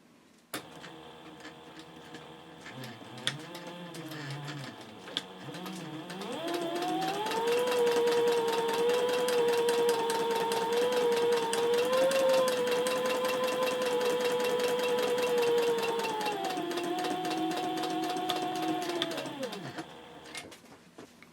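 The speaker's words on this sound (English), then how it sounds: "now I'm just going to top stitch at about 1/8 of an inch away from the edge" A sewing machine top stitches handbag fabric close to the edge. After some light clicks and a brief start, the motor hums at a steady whine with a rapid needle patter for about thirteen seconds, then winds down and stops.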